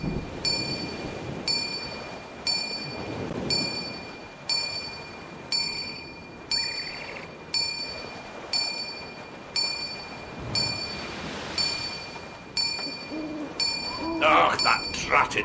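A village bell in the Viking village of the video game Thorgal: Curse of Atlantis rings in a steady, regular series of clear, sustained strokes about one per second, ending amid a brief burst of other sound.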